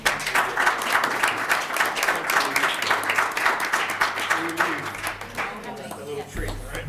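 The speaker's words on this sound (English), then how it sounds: "if we can give them all a round of applause" Audience applause at a city council meeting, a steady room-filling patter of many hands lasting several seconds, with voices chattering underneath and a brief thump near the end.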